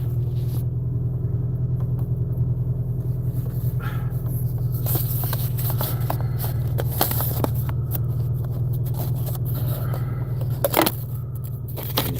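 A Subaru car engine idles while warming up on a cold day, a steady low rumble that holds throughout, close and fairly loud, with a few faint clicks and small handling noises on top.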